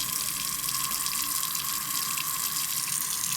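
Steady stream of water running and splashing onto a floor tile during a waterproof test, continuous and close, with no talking.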